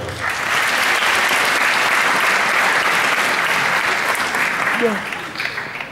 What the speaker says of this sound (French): Je vous demande déjà de vous applaudir et je vous dis un grand bravo déjà.